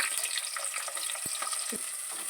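Onion pieces sizzling in hot oil in a pot for chicken dum biryani, a steady bright frying hiss with a few soft low knocks of stirring, heard alone at close range.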